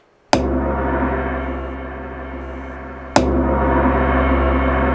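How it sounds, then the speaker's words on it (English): A large gong, played as an electronic drum-pad sound, is struck twice about three seconds apart; each loud attack blooms into a long, shimmering, slowly fading wash. "last but not least we have a gong, but this one is the large one."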